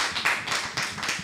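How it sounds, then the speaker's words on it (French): A congregation claps during a Sunday church service, with brisk overlapping hand claps in a dense, fairly loud burst of applause and no speech. "Applaudissons pour Jésus."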